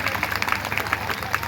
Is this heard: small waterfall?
no